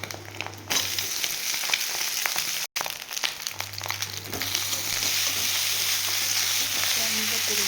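Chow mein frying and being stirred in a pan, a steady loud sizzle with scraping strokes, broken by a brief silence near the middle before the hiss resumes and holds to the end.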